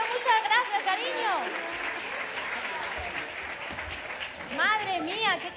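A theatre audience applauds the volunteers, with steady clapping running throughout while a voice sings and speaks over it at the start and the end.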